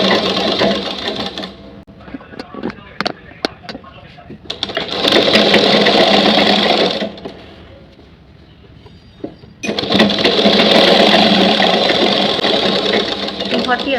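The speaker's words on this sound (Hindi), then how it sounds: "अब हम इसको सिल लेते हैं।" A sewing machine stitches ladies' pants in loud sustained runs that pause and restart, with a quieter stretch of slower stitching and clattering between bursts.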